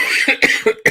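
Several sharp coughs in a row from a conference speaker getting over a cold, close and loud, with short gaps between them.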